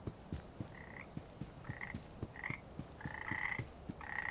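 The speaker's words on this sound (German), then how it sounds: "Was sind das für Frösche hier?" Frogs in the video game Papo & Yo croak in a quiet scene: a regular series of soft low pulses with brief higher trilling calls repeating about every half second.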